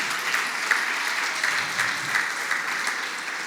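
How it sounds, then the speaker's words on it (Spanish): Congregation applauding in a church, a steady, dense wash of clapping from many hands that holds at an even level from start to finish. "Un aplauso ahí."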